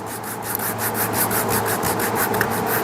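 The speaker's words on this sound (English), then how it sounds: "Sand down some of the edges" Sandpaper rubbing along the edges of a wooden wedge for a double bit axe, a steady close scratchy abrasion with quick repeated strokes and no break.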